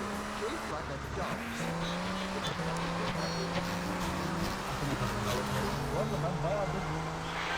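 A car engine drones steadily throughout, with occasional tire squeals, while someone talks over it, in the video game GTA Vice City Remastered.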